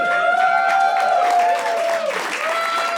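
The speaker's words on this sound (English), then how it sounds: "Everybody's cheering." A stand-up comedy audience breaks into steady applause with whoops and shouted cheers layered on top, a full, sustained crowd roar heard from within the room.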